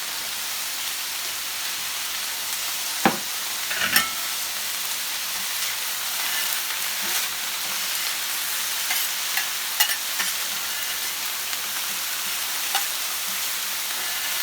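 Sliced vegetables (courgette, sweet potato, bell pepper and onion) fry in oil in a pan with a steady crackling sizzle, broken by occasional sharp clicks and scrapes of stirring.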